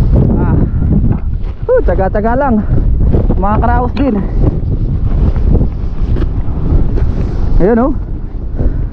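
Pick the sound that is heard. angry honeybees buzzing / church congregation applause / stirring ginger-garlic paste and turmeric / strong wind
strong wind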